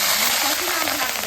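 Curry leaves dropped into hot oil for a tempering burst into a loud, dense sizzle that crackles steadily for a moment, with a voice speaking over it.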